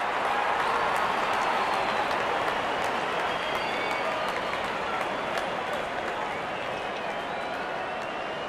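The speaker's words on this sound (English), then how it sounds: "the crowd are jeering them on" Crowd noise from a stadium in the Real Cricket 22 video game, a continuous dense roar of clapping and cheering, steady and moderately loud throughout.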